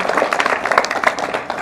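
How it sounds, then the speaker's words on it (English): An audience at a school author visit claps to welcome author Lisa Greenwald, a close, dense and steady wash of applause with brief voice fragments mixed in. "Clapping for all of you."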